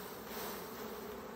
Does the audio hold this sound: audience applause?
no